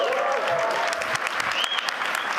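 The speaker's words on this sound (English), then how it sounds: "That was not a large applause." Audience applause at the Davos 2026 forum, a steady, dense wash of clapping from a large crowd, fairly loud and continuous throughout.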